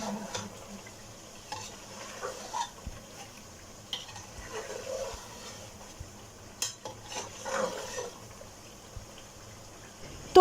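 Chicken frying in a pan with pulao masala, a faint steady sizzle broken by irregular scraping stirs and light clinks of a utensil against the pan, close up.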